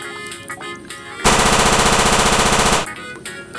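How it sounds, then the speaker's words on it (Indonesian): A toy M16 gun fires a rapid burst of electronic machine-gun shots for about a second and a half, loud and rhythmic, with quieter toy noises around it. "di sini ada tembakan M16"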